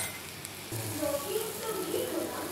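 Onion, green chili and a pinch of turmeric hitting a pan, a soft sizzle that swells after a short pause, with faint stirring and light pops.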